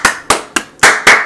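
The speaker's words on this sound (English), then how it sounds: "We gon' all clap it up." Five loud, sharp claps land in a slow, roughly even rhythm, close up, with nothing else heard between them.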